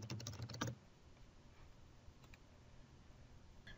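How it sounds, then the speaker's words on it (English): A brief burst of computer keyboard typing as keywords go into a library search box, a quick cluster of close, faint clicks in the first second, then a quiet room with a couple of stray taps. "Click inside the search box and type your keyword or words"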